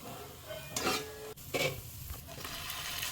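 Browned onions and whole biryani spices stirred in a pan for gongura chicken dum biryani: a few scraping strokes and soft sizzling, close and moderately quiet, with no talking.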